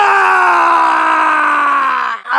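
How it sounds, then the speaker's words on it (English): Shadow screams in Sonic X Shadow Generations, a single long, loud, strained voiced cry that slowly sinks in pitch before breaking off near the end. "This man knows how to pull off a blood-curdling scream."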